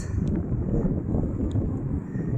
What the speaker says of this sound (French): il y a un petit peu de vent aujourd'hui